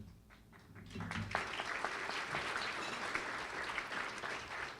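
Steady applause from an awards ceremony audience builds after a moment and carries on evenly, a dense patter of many hands clapping with a few voices underneath.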